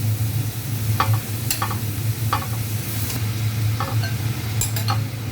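Frozen pork fries loudly in a pan, with a constant sizzle and low hum under repeated clinks and scrapes of a utensil stirring the meat.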